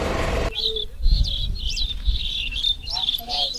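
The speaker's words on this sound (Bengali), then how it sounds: "এই সন্ধেবেলায় পাখির এই কিচিরমিচির শুনতে বেশ ভালো লাগছে।" Evening birdsong near Ramraj Temple in Jharkhand: high, thin chirps and twitters repeat throughout, fairly close, after a brief burst of louder broadband noise at the start, with low background rumble.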